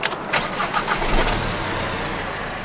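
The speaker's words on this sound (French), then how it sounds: "Avec du plastique, notre voiture marche tout aussi bien." A car running on diesel made from plastic waste cranks over in a few quick bursts, then catches and settles into a close, steady idle.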